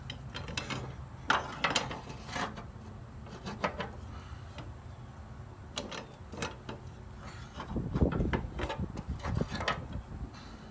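A ratchet tightens the blade bolt on a John Deere sit-down riding mower, rapid clicking pawl strokes in short bursts with metallic clatter, close up with no talk.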